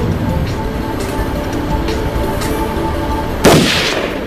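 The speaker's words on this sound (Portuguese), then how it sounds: "Então está pronto para atirar?" A single sharp gunshot fired at a target cracks out near the end, loud and close, following a few seconds of quiet room ambience.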